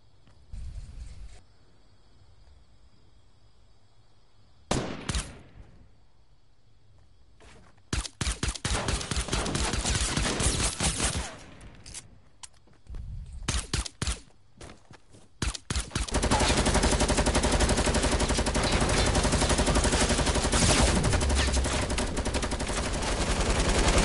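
Video game gunfire tearing through walls, heard as scattered loud shots and short bursts that give way to a sustained, dense barrage of rapid fire near the end.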